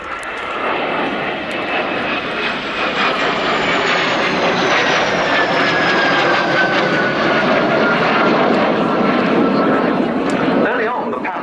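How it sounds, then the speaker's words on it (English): An MS760 Paris jet leads a formation of historic French naval jets past at an air day, a loud sustained roar with a high whine that slowly drops in pitch as the aircraft sweep by, a voice faintly beneath. "the MS760 Paris, and that's the aircraft that's leading the formation about to run in from our left"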